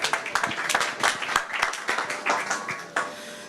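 Applause from an audience at a social-economy startup pitch event, a steady stretch of crowd clapping with dense overlapping hand claps, moderately loud and continuous throughout.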